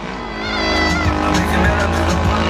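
A racing motorcycle engine roars loudly throughout a motorcycle race, rising steadily in pitch with revving and whining tones, while a commentator speaks over it.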